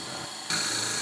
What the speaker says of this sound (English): Now we're going to drill this out.